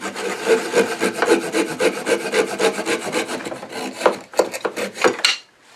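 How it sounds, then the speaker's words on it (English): A hand pruning saw cuts off wood on a turning project, with close, loud, rhythmic rasping strokes at a steady pace that turn quicker and choppier before stopping abruptly. "So I'm going to take this pruning saw and just finish cutting it off a little bit."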